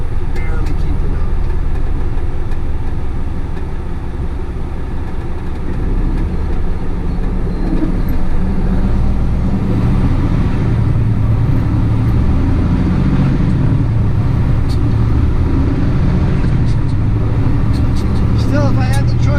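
A truck's Cummins diesel engine running in the city, a steady loud low rumble and drone throughout, with road and cab noise mixed in.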